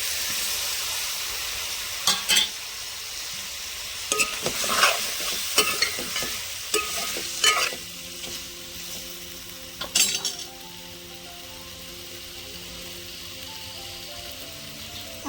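Potatoes frying in oil in a pan are stirred with a spoon, producing a bright steady sizzle with scraping and clinking strokes clustered in the middle, then the sizzle settles into a calmer hiss.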